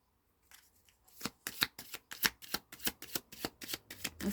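Tarot cards riffled and shuffled by hand in quick, regular bursts of crisp snapping flutters, close and steady, after a short quiet start with a few soft card handling sounds; no talking.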